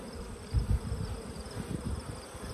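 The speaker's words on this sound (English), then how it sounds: "just kind of gently roll the bees down into the cup" Nurse bees from a frame slide and tumble down into a cup, a soft continuous hum of the crowded insects with low rustling bumps, close and steady with no talk.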